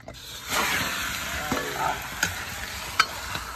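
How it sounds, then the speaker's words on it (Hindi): Chicken fries in a pan over an open fire in a village, a soft, steady sizzle broken by a few sharp scrapes and clicks of stirring, fairly quiet and without talk. "ये आग लगी है, ये चिकन है, ये वाला ऑयल है। ऑयल मत डालो, पहले चिकन डालो।"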